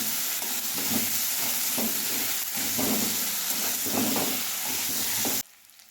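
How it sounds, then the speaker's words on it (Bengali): Spice paste sizzles with small potatoes in a hot pan, cumin in the mix, a steady loud frying hiss with rhythmic stirring scrapes that stop abruptly near the end. "মশলাটি ভাজি হয়ে গেছে"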